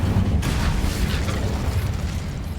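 An Incendio fire spell cast in Hogwarts Legacy: a loud, low whooshing burst of flame that roars briefly and then rumbles on steadily with crackling texture, with no talking.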